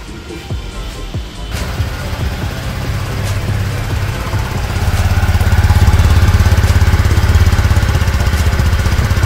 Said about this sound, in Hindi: अब मैं स्कूटी को आपको स्टार्ट करके दिखाती हूं